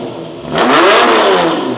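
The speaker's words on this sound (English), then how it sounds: "this is a straight pipe system on a Lamborghini V12. It should sound great." A Lamborghini V12 with a straight pipe exhaust revs up sharply, its engine note climbing into a loud, raspy roar that peaks and then falls slightly, with no talk over it.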